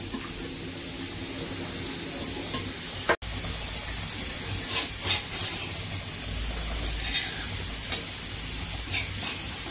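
Water spread over a hot iron tawa around a cooking bajra bhakri makes a steady, close sizzle and steamy hiss, with a few faint taps and small crackles over the continuous frying noise.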